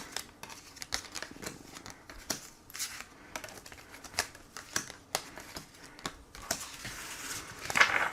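Tarot cards are shuffled and drawn by hand up close, giving irregular papery flicks, snaps and riffling taps that patter quickly, with a brighter flurry near the end and no talking.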